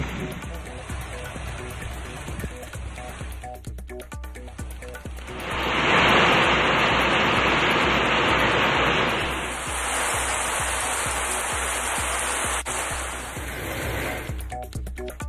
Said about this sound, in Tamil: சென்னை மற்றும் புறநகரின் பல்வேறு இடங்களில் இடி மின்னலுடன் மழை.